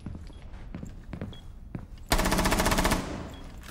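An MP7 fitted with an ACOG sight fires in Rainbow Six Siege as a loud, rapid burst of automatic shots lasting about a second, preceded by a few soft thuds and footsteps.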